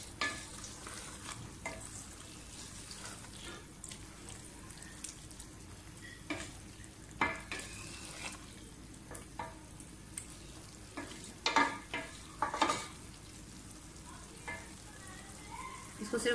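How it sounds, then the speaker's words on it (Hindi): Spinach fries in ghee in a pan for aloo palak, with a soft continuous sizzle and occasional stirring scrapes, close and fairly quiet. "पालक जो है वो हमारी भून गई है, अच्छी तरह से भून गई है।"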